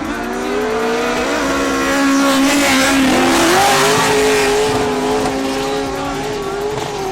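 A drift car at a drift competition, screaming at high revs with a sustained engine note that rises and holds, tire squeal and crowd noise mixed in, loud and close throughout.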